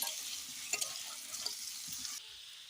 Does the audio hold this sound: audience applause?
no